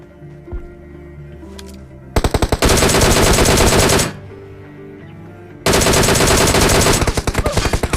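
Automatic gunfire in a military battle video game rips out in two long, loud bursts of rapid shots striking a fence, separated by a short lull of quieter game sounds.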